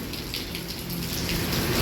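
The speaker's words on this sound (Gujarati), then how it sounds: "વરસાદ ચાલુ થઈ ગયો" Steady rain pours down, a dense continuous hiss of drops hitting surfaces with no voices.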